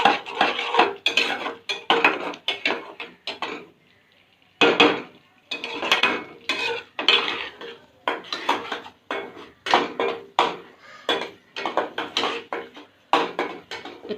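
Tomatoes being stir-fried in a pan for an Assamese home-cooked dish, with repeated close scraping and clinking of a metal spoon against the pan in uneven bursts over a soft frying sizzle.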